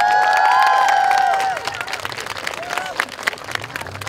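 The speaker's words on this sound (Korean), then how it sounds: "환영의 박수 부탁드립니다" Audience at an urgent public debate forum applauds arriving police officers; a dense wash of clapping and crowd noise, loud at first then thinning into scattered claps, with a voice carrying over it.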